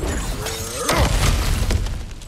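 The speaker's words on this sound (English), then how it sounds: "Ah, back to smashing through things for fun and profit." Smashing through objects in the video game God of War Ragnarök: a single close crash with shattering debris around the middle, over a steady low game rumble, with no talk.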